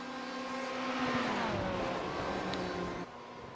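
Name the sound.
Radicals Porsche race car engine at Silverstone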